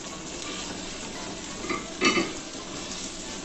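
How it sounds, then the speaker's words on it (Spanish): A sofrito with fried tomato sautés in a pan, giving a steady soft sizzle with brief stirring scrapes partway through. "Vamos a sofreír un poquito."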